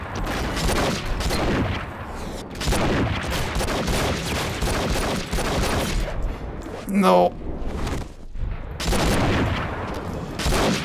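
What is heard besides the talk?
gunfire in the video game Enter the Matrix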